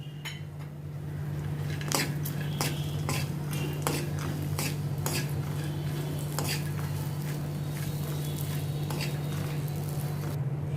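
A spoon stirs namkeen mix with raisins as it dry roasts in a pan without oil, steady scraping and clinking strokes over a constant low hum, close and repeated for several seconds.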